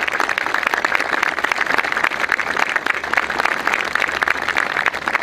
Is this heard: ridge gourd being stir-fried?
no